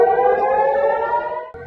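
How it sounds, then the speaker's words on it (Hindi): An air raid siren wails loud and steady, a single sustained tone that holds for about a second and a half before cutting off abruptly, with no voices over it. "फिर बाद में सायरन बजता है"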